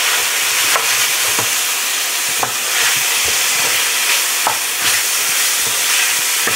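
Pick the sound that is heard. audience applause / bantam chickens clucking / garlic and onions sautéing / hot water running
garlic and onions sautéing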